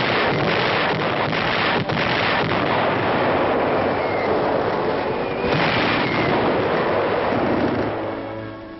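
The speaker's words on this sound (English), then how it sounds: "Yank artillery opens up on the advancing Germans." American artillery firing on advancing German troops in WWII newsreel footage, with heavy booming blasts and rumbling continuing throughout, loud and muffled by the old soundtrack, with no speech.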